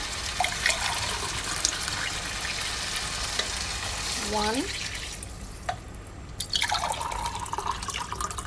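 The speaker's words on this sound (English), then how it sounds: "Let me add the water." Water is poured into a hot pot for chicken dum biryani, setting off loud steady sizzling and bubbling with drips and a short stirring scrape, then the hiss briefly quiets before resuming.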